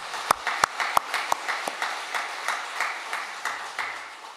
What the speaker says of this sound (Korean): 우리 자녀들을 하나님 말씀으로 가르치는 선생님들께 뜨거운 감사와 존경의 마음을 담아서 박수로 격려합니다.